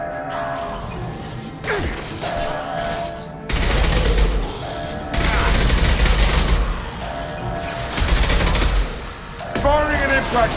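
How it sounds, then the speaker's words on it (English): Impact shot gunfire from the Mass Effect video game: several loud bursts of shots and crashing impacts come in clusters, with dense weapon fire and mechanical clatter, mixed with voices talking. "Firing an impact shot!"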